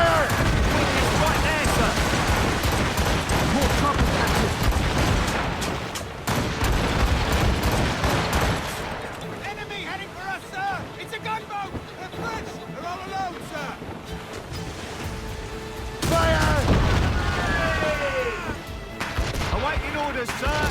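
Naval cannon fire in Assassin's Creed Rogue, heavy booming broadsides and blasts mixed with wind and sea noise, with crew voices shouting orders over the battle throughout.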